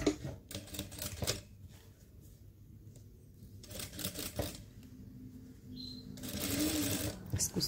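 A sewing machine stitches the seams of a trouser waistband in several close mechanical bursts of rapid clatter, separated by quieter pauses with handling sounds.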